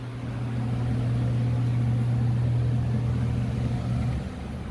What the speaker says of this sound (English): This for sure proves that the AC motor is working just fine